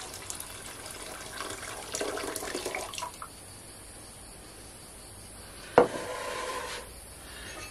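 About 500 grams of hot water pours from a kettle or cup into a bowl holding a mixture with sugar and salt. A steady splashing pour lasts about three seconds, and a single sharp knock follows later.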